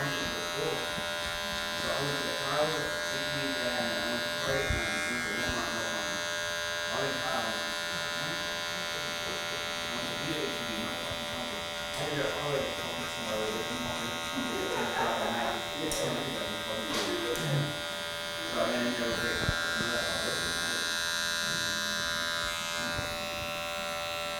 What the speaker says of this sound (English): Now I'm going to get my clipper, put it to 0, and I'm going to go from this arch right here.